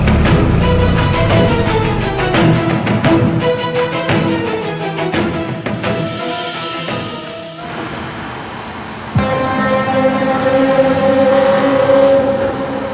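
A vehicle engine drives past, loud and close, with a rising, revving roar and a shifting tone that fades and changes as it goes by, heard alone without talk.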